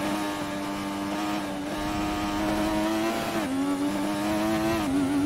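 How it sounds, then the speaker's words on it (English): Race car engine in the F1 2020 video game, turbo spooling through a series of downshifts, loud and continuous with shifting whine and revving over about five seconds, no talk. "You can just hear those turbos just keep spooling. All those downshifts though."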